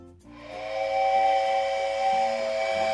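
A cedar oak wooden train whistle with drilled holes is blown once, a breathy, hissing steam-whistle tone that rises quickly and holds loud and steady for a few seconds.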